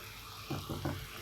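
A small splash of water poured into a hot pan of sausage sets off three quick bursts of sizzling over a steady frying hiss, close and fairly quiet.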